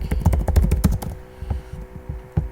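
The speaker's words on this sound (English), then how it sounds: "I'm going to go ahead and type that out real quick" Rapid typing on a computer keyboard while entering a package name during a Linux server setup, close and fairly loud, a dense run of keystrokes that thins out toward the end.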